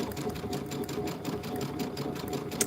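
An embroidery sewing machine stitches a rope bowl in the hoop, a fast continuous close-up rattle of needle strokes holding steady throughout with no voices.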